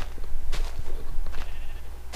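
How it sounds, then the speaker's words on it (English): Sheep in a video game bleating, a few short bleats over a low rumbling background, close and fairly loud. "There's a sheep in that tree."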